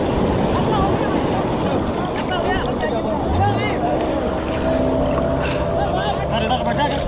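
Motorboat ride at a Goa water-sports spot, with a steady engine drone and water rush that fills the whole stretch while voices chatter over it.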